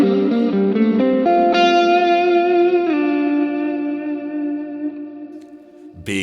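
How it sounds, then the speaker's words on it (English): An electric guitar plays a short run of sustained notes through a Laney Black Country Customs Difference Engine delay pedal with reverb added, each note ringing out with spacious trailing repeats that slowly fade. "If I add a bit of reverb, let's check this out."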